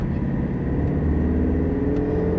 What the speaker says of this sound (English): Accelerate all the way out.